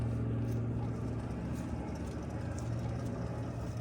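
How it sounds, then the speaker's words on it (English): A wheel bearing on an SRT-10 with the brake caliper removed spins and gives off a steady low hum with a faint rough whir, continuous and fairly close, with no talking. "this bearing sounds like it's making a noise slightly"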